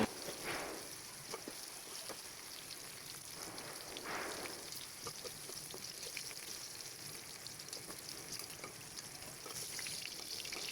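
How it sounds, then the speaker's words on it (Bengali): Okra dusted with turmeric fries in oil in a kadai, giving a soft, continuous crackling sizzle with occasional stirring scrapes, fairly quiet and steady throughout. "তারপর ভেন্ডিগুলো ভাজা হয়ে গেলে"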